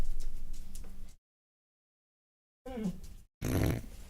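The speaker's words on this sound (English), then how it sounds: "The dogs are being the dogs." Dogs growl indoors in short, low, rumbling bursts. A snarl comes first, then a second of silence, then two more close growls near the end.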